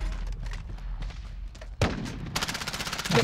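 Gunfire in the shooter Call of Duty Warzone: scattered distant shots first, then a close loud blast followed by a rapid run of automatic rounds.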